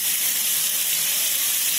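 Finely chopped onions hitting a hot pan for chole, giving a steady, loud hiss of sizzling that holds evenly throughout with no voices.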